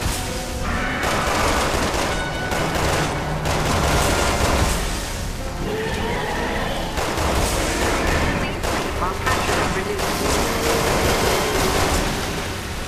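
Rapid gunfire in Resident Evil 6, dense volleys of close shots and booming impacts crowding the scene, with voices talking over the shooting at times.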